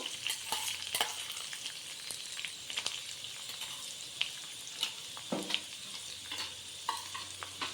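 Curry leaves and peanuts frying in a pan for poha, a crisp sizzling hiss broken by irregular stirring scrapes and sharp pops, close and moderately quiet, with no one talking.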